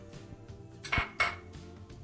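A metal pot lid clanks back onto a pot of tomato basil soup, two bright clinks close together, near and fairly loud, with no talking.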